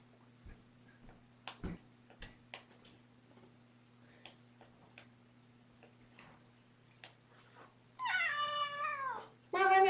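A kitten lets out a couple of high, wavering meows near the end, after scattered soft ticks and taps in an otherwise quiet room with a low hum.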